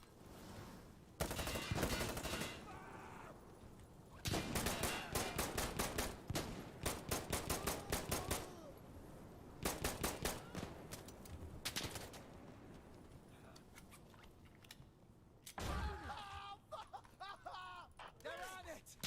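Full-auto rifle fire in Insurgency Sandstorm comes in loud sustained bursts separated by short gaps, with excited voices talking over and between the shooting.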